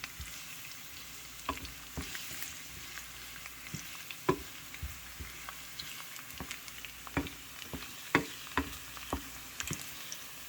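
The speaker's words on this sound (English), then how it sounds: "while I am sauteing the garlic and onion" Garlic and onion sautéing in a pan for a Kapampangan pork-and-liver dish give a soft continuous sizzle, broken by scattered crackles and pops and occasional clicks of stirring, close up with no talk.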